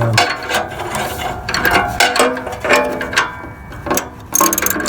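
Ratchet wrench clicks and clanks while being worked loose from the upstream air/fuel sensor (bank 1) on a 2003–2013 Toyota Corolla, with a series of close metallic ratcheting bursts.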